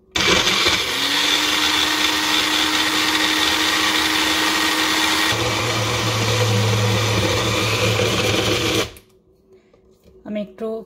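Blender grinds broccoli and shrimp into a mash, a loud steady motor whir for about nine seconds whose pitch drops partway through as the load changes, then cuts off, leaving faint handling noises.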